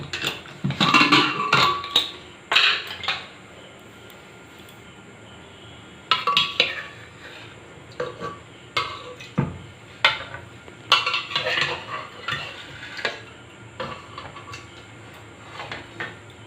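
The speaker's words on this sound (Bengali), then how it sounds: "এবার প্রেসার কুকারের ঢাকনাটা খুলে আলুটা বের করে নেব।" Pressure cooker lid being opened and boiled potatoes lifted out, giving a run of metallic clinks and knocks of steel lid and pot, with scattered bursts and quieter gaps between them and no talk.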